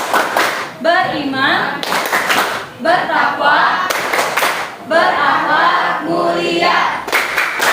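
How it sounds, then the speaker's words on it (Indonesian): A school class chants Indonesian character-education words in unison, punctuated by loud rhythmic bursts of group clapping between the spoken phrases. "Tepuk profil pelajar Pancasila."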